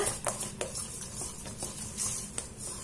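Thick liquid pizza batter, like a heavy crêpe batter, being stirred in a bowl, with a soft continuous swishing broken by light utensil taps against the sides at an uneven pace.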